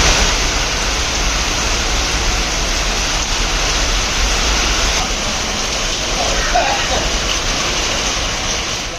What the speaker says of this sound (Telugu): హైదరాబాద్లోని ఉప్పల్ ప్రాంతంలోనూ వర్షం కురుస్తోంది